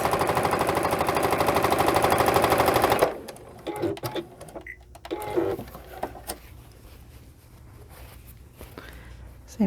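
A sewing machine runs a quick, loud top stitch along a fabric mask for about three seconds, then falls silent, followed by scattered clicks and fabric handling.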